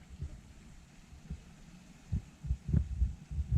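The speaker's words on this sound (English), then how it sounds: "We're gonna go ahead and turn the valve on for coolant, and you're gonna see it get sucked up through this clear vinyl tube here." Coolant being drawn under vacuum through a clear vinyl tube into a high-mileage Acura Integra's cooling system, heard as soft low gurgles and irregular thumping pulses, quiet and close.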